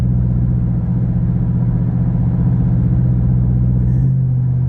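A Coyote-engined truck cruises on a highway, its exhaust giving a steady, deep droning rumble from inside the cab, holding an even pitch before easing slightly near the end.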